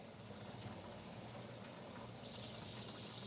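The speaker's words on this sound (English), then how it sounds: "I'm going to take now and put a half a cup of water" Half a cup of water is poured into a pressure cooker while cooking ball fish. A soft, quiet splash and hiss lasts a few seconds, growing slightly louder near the end.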